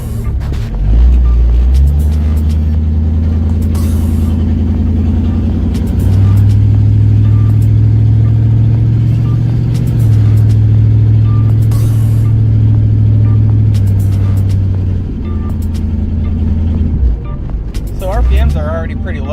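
A Chevrolet Camaro running at low road speed after a swap to 2.73 rear gears, its engine drone loud and steady throughout with a brief rise near the middle and a slight dip toward the end.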